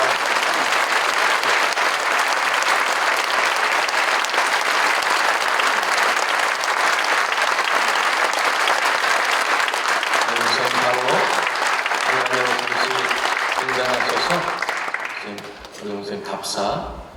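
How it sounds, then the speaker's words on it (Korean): Sustained congregation applause fills a church hall during a Korean Evangelical Holiness Church ceremony for a retiring pastor, loud and dense for about fourteen seconds before thinning out, with voices and faint music entering near the end. "박수로 축하하겠습니다"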